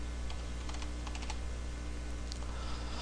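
Keys tapped on a computer keyboard while a title is typed into an Excel spreadsheet cell, light quick clicks in small bursts over a steady low hum, close and fairly quiet.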